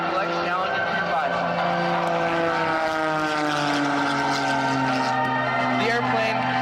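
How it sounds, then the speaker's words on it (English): Custom-built propeller aerobatic airplane flying a loop at an air show, a steady loud engine drone with shifting pitch sustained throughout, heard under a commentator's voice. "this one is the one we call the Woo-Wee loop for the Sean D. Tucker"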